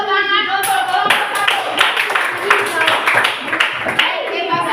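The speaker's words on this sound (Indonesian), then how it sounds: "Tepuk tangan untuk kelompok" Students in a classroom clap energetically for a presenting group, with many hands striking close together while voices talk over the applause.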